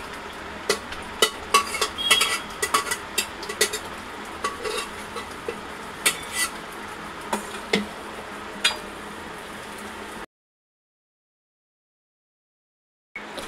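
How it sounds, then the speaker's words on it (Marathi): Boiled chicken is stirred into a fried masala in a pan, giving quick scraping and clinking strokes of a spoon against metal with faint sizzling, and the sound stops abruptly before the end. "आता मिक्स करून झाले."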